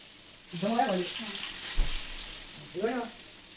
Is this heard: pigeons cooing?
no